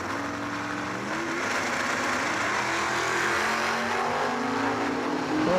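Drag racing door cars, a Chevy step side against a Duster, launch and run with a loud sustained engine roar, the pitch climbing through the gears before a distant drone, and no voices over it.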